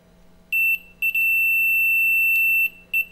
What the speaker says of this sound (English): So it's beeping with the switch in the first position